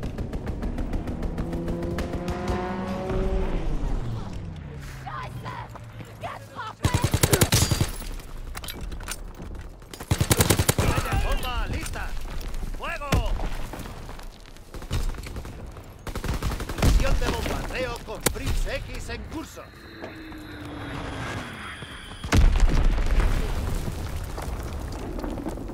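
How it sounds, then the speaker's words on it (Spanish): Strafing run in Call of Duty: WWII: a descending aircraft engine whine gives way to loud bursts of machine-gun fire and explosive rumbles, repeating in waves, with occasional voices in the mix. "Ametrallamiento en camino."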